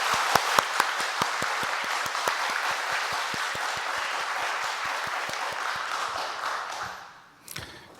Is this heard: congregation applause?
yes